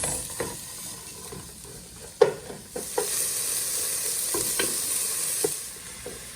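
Ginger and vegetables stirred and cooking in a pot for chicken and vegetable soup: steady sizzle and hiss with scattered utensil scrapes and clinks against the pot, close and moderately loud, no talking.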